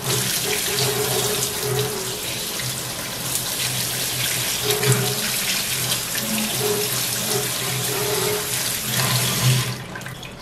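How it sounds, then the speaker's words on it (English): Running tap water pours steadily over a bundle of sprouting wheat grass being washed in a sink, a continuous close splashing hiss with faint handling sounds and no talking. "In the evening, wash the bundle well under running water."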